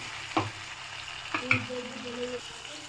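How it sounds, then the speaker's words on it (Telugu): Chopped tomatoes fry in a pan for tomato bath, a steady close sizzle with a few stirring knocks and scrapes against the pan. "ఇప్పుడు ఇందులోకి కట్ చేసి పెట్టుకున్న టొమాటో వేసుకుందాం."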